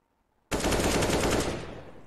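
An AK rifle in CS:GO fires a sudden, loud burst of rapid automatic shots that rings out for over a second, then fades into a decaying echo.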